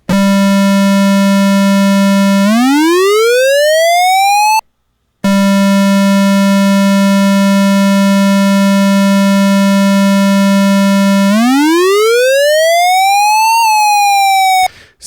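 An Arturia MatrixBrute synthesizer holds a steady buzzy tone, then its pitch glides smoothly upward under an envelope sweep; this happens twice with a short gap between, loud and alone.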